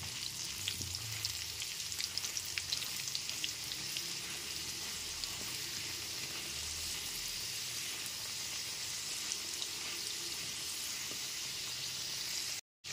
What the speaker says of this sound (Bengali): এবার গ্যাসের ফ্লেমটা মিডিয়ামে রেখে আলুটাকে লাল করে ভেজে নেব।